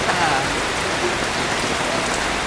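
Steady rain falls outdoors during a Buddhist monks' morning alms round in Thailand, a dense continuous hiss of drops on surfaces lasting throughout, with a voice faintly present beneath.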